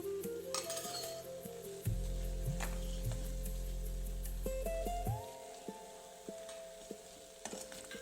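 Capsicum sabji mixed with besan and coriander is stirred in a pan, a low rumbling scrape through the middle with light clinks and soft sizzle around it, no voices.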